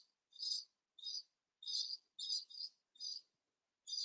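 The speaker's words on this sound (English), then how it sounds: "So I don't know if you can hear the birds outside." Bright, high-pitched chirps from birds outside in Australia repeat in short bursts, about seven calls with brief pauses between them, clear against an otherwise quiet background.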